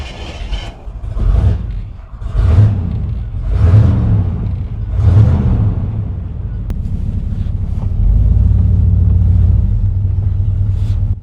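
A carbureted 1989 Chevrolet 3500 dually truck cranks in several uneven bursts, then settles into a steady low idling rumble. Wind noise runs over the whole take.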